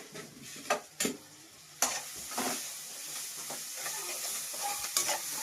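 Tomatoes fry quietly in a pan with a soft, steady sizzle, broken by a few sharp scrapes and taps of a spoon stirring at close range.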